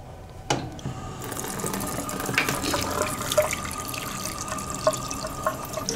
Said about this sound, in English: Here's your water fountain right there.